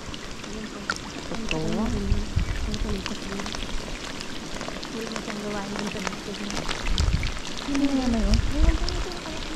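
Heavy rain pours down steadily in a rural provincial setting, a dense, constant hiss filling the background while people talk over it.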